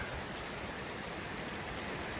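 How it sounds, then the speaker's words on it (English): Pouring rain falls outside a farm barn, heard from under its roof as a dense, steady hiss of drops drumming on surfaces, with no one talking. "I'm actually standing here under my barn and it's pouring rain."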